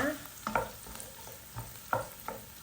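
Ginger stirred into a pan with garlic for home-style chicken curry, a soft sizzle with a few spatula scrapes and clacks, close but quiet and brief.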